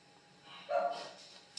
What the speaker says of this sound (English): It's a little tiny dog